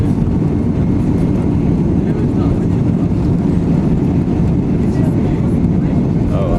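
A Boeing airliner begins its takeoff run on a desert airport runway in Egypt, heard from inside the cabin as a loud, steady low engine roar and rumble throughout.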